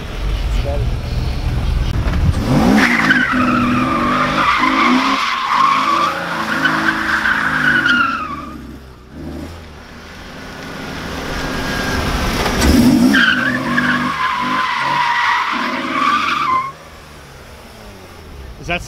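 A BMW E36 drifts through big sweeping corners at a private spot, tires skidding and squealing in two long loud bursts over the rising and falling engine, with a quieter lull between them.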